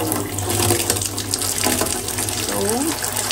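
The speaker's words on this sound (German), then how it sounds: "ihr füllt euren Behälter mit Wasser. Ihr nehmt da einfach ganz normales Leitungswasser." Ordinary tap water gushes into a container for a drain-cleaning preparation, a loud continuous splashing fill with shifting pitch as the vessel takes water.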